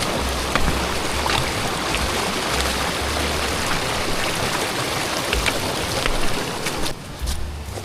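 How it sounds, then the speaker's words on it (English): Rain falls in a steady, dense hiss outdoors on a trail, continuous and fairly loud, with a brief dip near the end. "So it's raining again."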